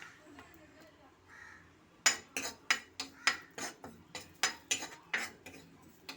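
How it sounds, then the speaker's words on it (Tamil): Neem flowers are fried in ghee in a pan. After a quiet stretch with faint talk, a utensil scrapes and clinks against the pan about ten times in a regular stirring rhythm. "வேப்பம்பூவை போட்டுடணும் அதில் கொஞ்சமாக நெய் ஊற்றி வறுத்து எடுத்து வச்சுக்கணும்"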